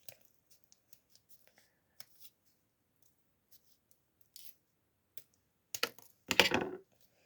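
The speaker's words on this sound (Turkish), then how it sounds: "bunun tam ucundan başlayarak etrafından kesmeye başlıyorum" Scissors snip through a folded paper snowflake in short, faint, scattered cuts, ending in a slightly louder burst of crisp snipping and rustling paper.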